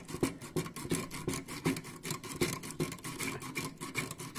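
Sandpaper rubbed back and forth on the heating contact inside a rice cooker that powers on but won't heat, making a steady run of close, dry rasping strokes in a quick, even rhythm.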